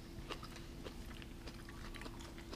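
Breakfast food is bitten and chewed with the mouth open, giving close, crisp crunching bites in an irregular run of sharp clicks and smacks. No one speaks.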